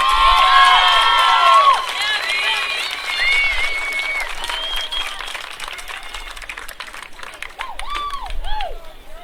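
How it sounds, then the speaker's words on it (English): A ballpark crowd at a college softball conference championship game applauds the all-tournament team, with whoops, whistles and shouted cheers rising over the clapping, strongest at the start. "Let's give these outstanding student athletes a round of applause"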